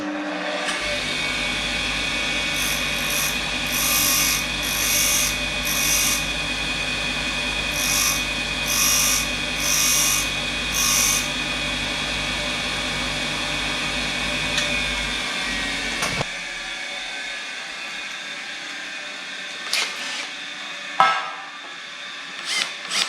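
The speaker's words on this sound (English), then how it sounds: "that's drilling right through the middle of the weld" A drill grinds steadily with a high whine for about sixteen seconds through the middle of a steel weld on a tubular section for a 1920s convertible top, then stops, leaving a few scattered knocks and clatters.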